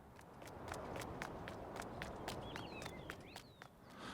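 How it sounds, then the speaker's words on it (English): A Farming Simulator 19 character runs on paved concrete with light, dainty, evenly spaced footfalls. The steps are crisp and quick over a steady outdoor ambience, and a few bird chirps sound near the end. "It's a very dainty footfall that you get when you're on paved ground."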